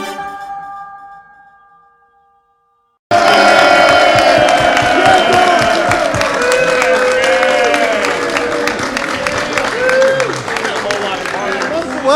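A crowd of Shawnee and Lenape high school fans at Chickie & Pete's ahead of a Thanksgiving game erupts in loud, sustained cheering and applause after a brief quieter lead-in, with shouting voices mixed throughout.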